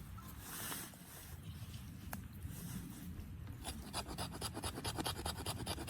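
A knife spine scrapes shavings off a piece of fatwood, a close, dry, raspy rubbing that becomes a fast, regular series of short strokes toward the end, with no talking.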